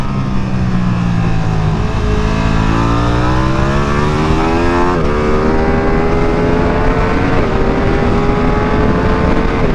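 A 2022 Ducati Streetfighter V2 motorcycle at full throttle on a track lap at Monte Blanco, its engine loud and continuous, with rising revs, quick gear shifts and pitch drops running through the whole stretch.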